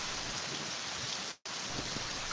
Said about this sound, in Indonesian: Gerimis masih turun rintik-rintik.